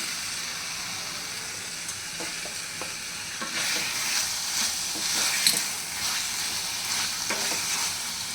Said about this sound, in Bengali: এখন আমি দিয়ে দেব ভেজে রাখা আলু আর ক্যাপসিকাম।